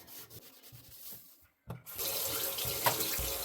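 Tap water rinsing a surface cleaned with Cif: faint rubbing and trickling at first, a brief pause, then a loud steady gush from the faucet close by, with no talking.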